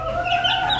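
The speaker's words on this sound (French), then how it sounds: "Donc, les poules sont là." Chickens in a henhouse give a brief clucking call, close and moderately loud, with a soft background hum behind it.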